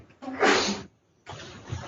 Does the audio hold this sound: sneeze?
yes